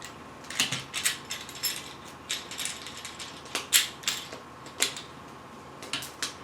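A $20 grinder chainsaw attachment kit being tightened by hand: a string of close, small metallic clicks and ratcheting ticks in uneven bursts, with a faint steady hum beneath and no talk.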